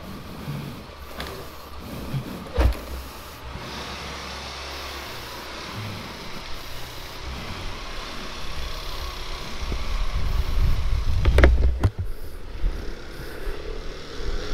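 Yamaha NMAX scooter engine idling while warming up outdoors, a steady low rumble that swells slightly louder toward the end, with a couple of brief knocks over the hum.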